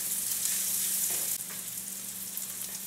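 Sliced garlic and onion sizzling in oil in a paella pan, a close, continuous bright crackle with a brief stir partway through and no talking.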